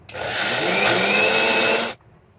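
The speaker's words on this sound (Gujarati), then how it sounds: "ફરીથી 3 આઈસ ક્યુબ એડ કર્યા છે અને ફરીથી આપણે પીસીશું" Mixer grinder grinding a paste with three ice cubes, a loud steady whirring drone that holds for about two seconds, then cuts off sharply.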